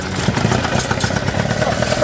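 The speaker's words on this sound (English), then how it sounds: "we did want to find out if the tractor would run at all, so we proceeded with the starting fluid idea" A Ford 9N tractor engine fires on starting fluid with a steady, loud, rapid chugging clatter, running continuously throughout.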